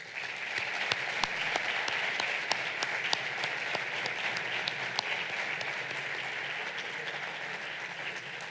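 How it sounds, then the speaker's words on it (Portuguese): Sustained applause from an audience at a student association officers' swearing-in ceremony, a dense steady wash of clapping with a few sharper individual claps standing out, continuous and even in loudness throughout. "peço novamente uma salva de palmas para o Rodrigo Portela"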